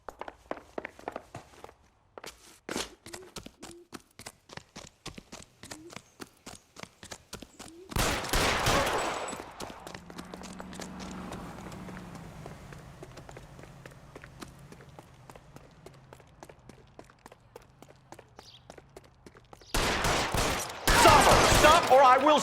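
Gunfire in the video game L.A. Noire, with a rapid run of sharp shots mixed with footsteps, then loud bursts of fire near the middle and end, close and punchy.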